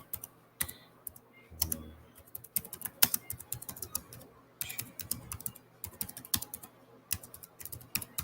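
Someone types on a computer keyboard for several seconds, giving a quick, uneven clatter of keystrokes at close range with short pauses and no talk.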